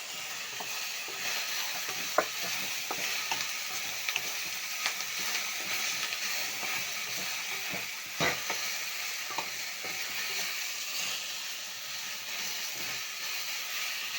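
Curry sizzles and simmers in a pan with curry leaves while a spoon scrapes and stirs it, giving a steady hiss broken by occasional clinks nearby.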